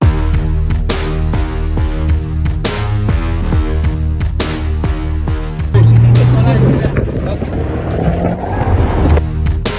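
A rented Ferrari on Paris streets: the engine drones under conversation, then surges and climbs in pitch as it accelerates hard, loud and close from inside the car.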